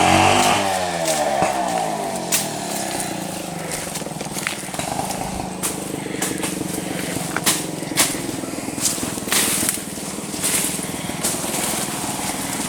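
Chainsaw running close by outdoors during pond pit cleanup, a loud steady motor drone with irregular revving bursts throughout, no talk.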